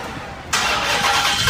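A Hellcat engine fitted in an MPV cranks and catches, a sudden loud start bursting in after half a second of near quiet, then running steadily with a rough, broad roar to the end.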